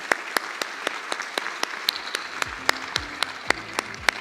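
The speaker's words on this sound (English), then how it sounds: "please join me in a round of applause for our distinguished panelists" An audience at a panel session applauds the panelists: a continuous patter of many hands, with one nearby clapper striking sharp, evenly spaced claps above the crowd.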